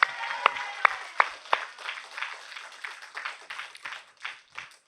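At a Korean church's Friday night service, the congregation claps in praise. It opens with a few sharp, loud claps, then settles into looser, scattered applause that thins out over several seconds.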